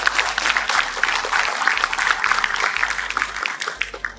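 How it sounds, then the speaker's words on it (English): Sustained applause from a large audience at an academic conference, steady dense clapping filling the whole stretch with a low hum underneath. "A big round of applause for Professor Griera."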